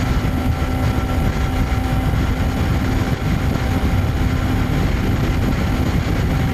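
A brand-new Kawasaki Ninja 300 motorcycle cruising at around 70 mph, giving a loud, steady engine drone blended with heavy wind roar that holds constant throughout, with no talking.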